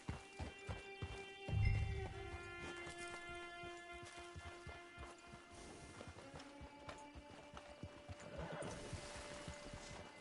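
Horse hooves clip-clopping at a steady pace with a sharp neigh partway through, set in the video game Red Dead Redemption 2, under a low music or ambience bed.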